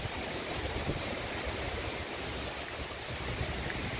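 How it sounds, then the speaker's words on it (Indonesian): Heavy rain pours down on an empty beach, a dense, even hiss with no breaks, steady and moderately loud throughout, and no voices over it. "hujannya mulai gede guys, mulai besar"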